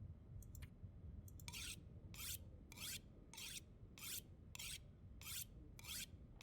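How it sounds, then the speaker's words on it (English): A knife is sharpened on a whetstone in The Long Dark, giving a steady series of about eight quiet, evenly spaced rasping strokes, each a short scrape, heard alone. "Let's go ahead and sharpen up the knife."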